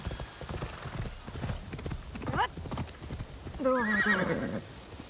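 Horse in the video game Assassin's Creed Shadows gallops with steady clip-clop hoofbeats, then lets out a loud, close whinny near the end, with no talk over it.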